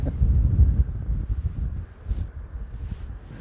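Wind buffeting the microphone beside a river during fly fishing for wild trout, a steady low rumbling roar with gusty swells throughout and no speech.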